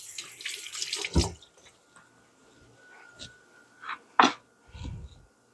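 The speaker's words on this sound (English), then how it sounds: "Grab our lemon. We're going to give it a quick wash." A lemon gets a quick rinse under a running kitchen tap while blackened salmon is being plated, with bursts of splashing water that come and go in short, close, moderately loud spurts and no one speaking.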